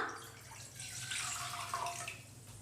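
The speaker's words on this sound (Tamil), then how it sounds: "புட்டிங் பண்ணுறதுக்கு 1/2 லிட்டர் தண்ணி சேர்த்துடலாம்" Half a litre of water is poured in for sago pudding, a quiet, continuous splashing pour with light gurgles that runs steadily throughout, with no one speaking.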